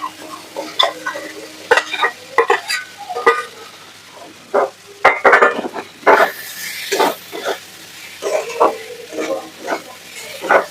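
Chunks of potato and elephant foot yam fry in a hot pan while being stirred, with intermittent scraping and sizzling bursts at close range and no speech.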